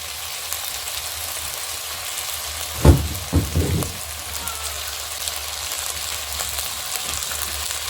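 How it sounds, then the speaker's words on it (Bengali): Potatoes frying in a pan under a steady low sizzle, with a few close scraping, clattering stirs of a spatula clustered in the middle of the clip. "আলুটা নাড়াচাড়া করে দিয়েছি"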